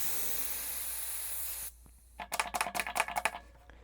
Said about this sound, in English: We're going to let the air out